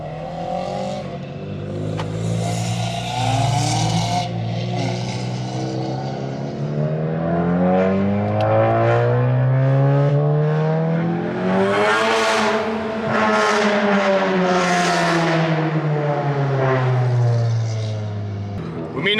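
A MK7 VW Golf GTI pulls away with its engine revving loudly and close by, the pitch sweeping up and down through several gear changes, with voices over the engine noise.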